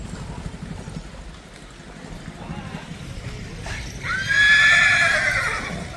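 A horse lets out a loud, rising whinny near the end, after a stretch of steady outdoor rumble and faint movement, at a temple gathering of mares and riders.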